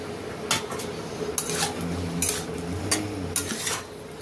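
Curry with fish head being stirred in a pot after sugar goes in: a low simmering hiss under repeated scraping strokes of a spoon against the pot, close and regular, roughly every second, no talk.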